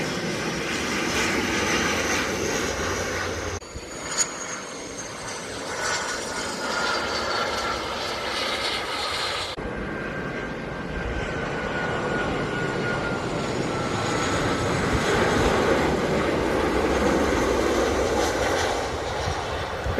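A small IndiGo jet passes near Kochi airport with a loud, sustained engine roar that rises and shifts in tone over about twenty seconds, with brief cuts partway through.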